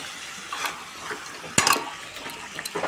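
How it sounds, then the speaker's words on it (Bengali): Chicken curry is stirred in a pan: a quiet bed of simmering, a few scraping and clinking strokes, and a sharper clatter of spoon against metal partway through. "তাই চলো এটাকে ভালো করে নাড়িয়ে চাড়িয়ে"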